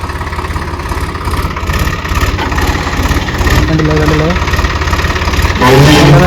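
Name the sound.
tractor engine running as it is moved onto a stone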